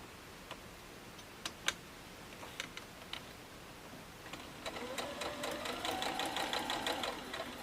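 A sewing machine stitches a quarter-inch seam along half square triangle quilt pieces, starting with a few scattered ticks and taps, then running steadily in a fast, even whirring rhythm at close range with no talking.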